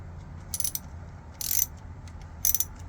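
Screws loosened with a ratcheting tool to remove a circuit breaker on a boat, with three short bursts of quick clicking separated by quiet pauses.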